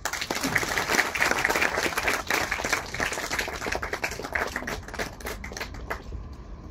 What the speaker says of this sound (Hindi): और साथ में आप सभी की तालियां भी।